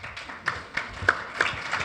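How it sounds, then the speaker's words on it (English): A small audience at the INSPIRE Summit 2022 panel discussion claps: sparse, distinct hand claps spaced irregularly over a couple of seconds, fairly close and moderately loud, with no talk over them. "Getting an applause."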